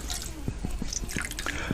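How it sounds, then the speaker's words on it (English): Water drips from a paintbrush that has just been cleaned, about seven small, close drops falling in a fairly steady rhythm over a constant background hiss. "This brush, when you clean it out, it retains a lot of water"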